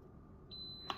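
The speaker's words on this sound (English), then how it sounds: "you'll hear another beep" A Runxin F71P1 timer-controlled automatic valve control head gives one short, high electronic beep while it is unlocked, faint, in a quiet room.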